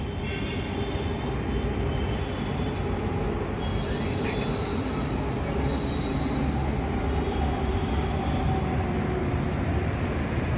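A metro train passes near a residential balcony in Bangalore as a steady, loud rumble that fills the whole clip, with faint wheel squeal and voices in the background.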